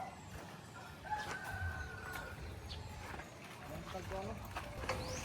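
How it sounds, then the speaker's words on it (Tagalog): Chickens and a rooster crowing at a home, with several drawn-out crows rising over a steady noisy background while people talk nearby. "Daming manok oh."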